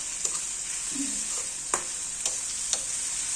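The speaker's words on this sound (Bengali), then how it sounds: "আমি আর একটু সময় পেঁয়াজটা ভাজবো, যে পর্যন্ত পেঁয়াজটা একদম নরম হয়ে না যাবে" Salted onions fry in a pan, a quiet steady sizzle broken by a few sharp clicks of a spatula stirring.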